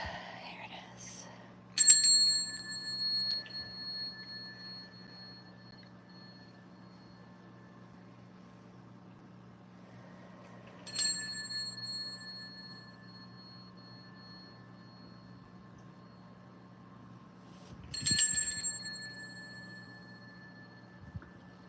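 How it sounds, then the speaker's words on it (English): A small hand bell rings three times, roughly eight seconds apart, each strike bright and ringing before fading out, over a quiet room hum with faint low murmuring between strikes. "Where's my bell? Here it is."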